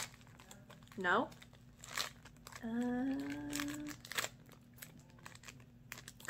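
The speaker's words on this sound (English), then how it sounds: "Copious amounts of packaging." Plastic packaging of edible insects crinkles and crackles in short bursts as it is opened by hand, close and fairly quiet, with brief vocal sounds from a person in between.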